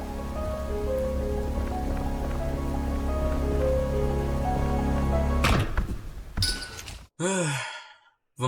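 Steady rain falls in the ULTRAKILL video game, a dense continuous hiss with a low rumble for about five seconds before the scene cuts to other sounds.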